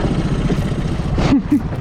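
A low, steady boat engine rumble running slowly, fairly loud and constant, with a couple of brief voice sounds near the end.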